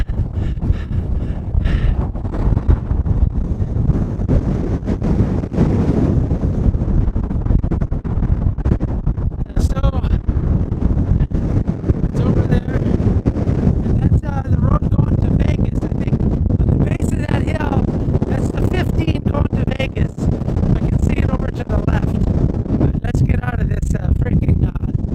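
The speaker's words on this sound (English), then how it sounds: "you can see how windy it is." Strong gusts buffet the microphone on a ridge top at Sawtooth Canyon in California, a constant loud rumbling roar of wind that never lets up across the whole stretch.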